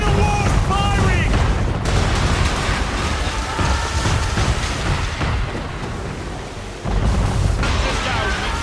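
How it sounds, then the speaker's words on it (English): Cannon fire from a man-of-war warship in the Assassin's Creed 3 Remastered video game, heavy booming blasts layered with dense broadband noise and game sound effects, loud and continuous across the scene. "Man of war firing!"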